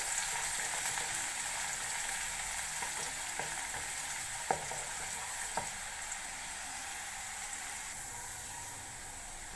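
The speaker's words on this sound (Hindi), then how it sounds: "घी में थोड़ा फ्राई करेंगे।" Bitter gourd (karela) peels frying in ghee give a steady, fairly quiet sizzle, with a few faint clicks of stirring and no one speaking.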